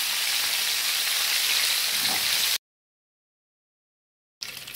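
Chicken pieces fry in hot oil with a steady, dense sizzle for about two and a half seconds, then silence, and the crackle returns briefly at the end.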